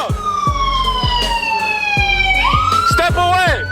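Police car sirens wail at the end of a high-speed chase, several overlapping tones sweeping up and down loudly and close, with a rapid yelping pattern near the end.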